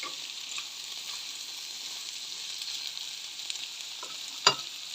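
Vegetables for fruit fried rice stir-fry in a pan with a steady, moderate sizzle, broken once near the end by a short clack from stirring, with no talking.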